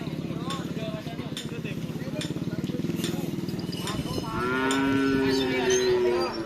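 Cattle at a karapan sapi bull racing event, with a long, loud moo rising after about four seconds over busy crowd chatter and motorbike-like rumble.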